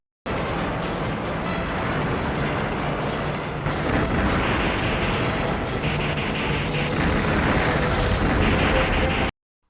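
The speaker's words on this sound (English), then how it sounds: "Phase 3 explosions topple these buildings onto Godzilla" Heavy, continuous film explosions roar and rumble as buildings topple, booming and crumbling debris building in intensity for several seconds before cutting off abruptly.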